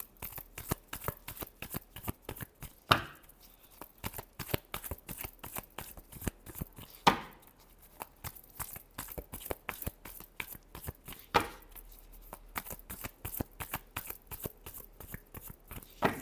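A deck of tarot cards is shuffled over and over with quick, crisp riffling flutters in a steady rhythm, close by, broken by three sharper slaps about every four seconds.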